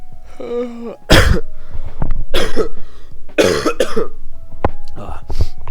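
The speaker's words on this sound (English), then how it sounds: "So I might be coughing a little bit on stream." Several harsh, loud coughs from a sick person burst out close by in quick succession, mixed with throat clearing and brief talking.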